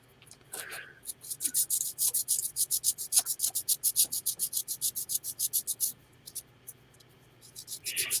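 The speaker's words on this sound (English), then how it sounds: "let the sandpaper do its job" Sandpaper rubbed back and forth on wood in a garage, a fast, steady run of close, even scratching strokes that starts after a brief pause and stops near the end.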